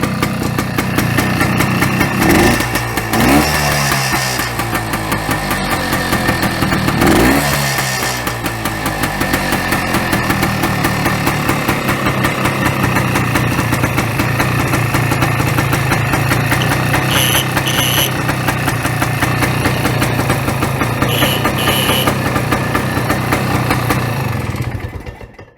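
Kawasaki KT250 two-stroke trials motorcycle engine running smoky on two-stroke fuel: a close, loud, steady buzzing idle with a few sharp revs near the start, continuing unbroken until it cuts off at the end.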